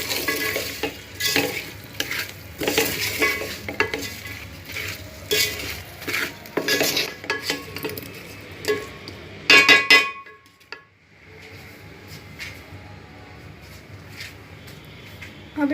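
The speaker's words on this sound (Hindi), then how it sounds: "ये सब डालकर अच्छे से मिक्स करें।" Potatoes with turmeric and salt being stirred in a pan for aloo pulao, a spoon scraping and clinking in quick repeated strokes over a light sizzle, then a short pause before quieter stirring.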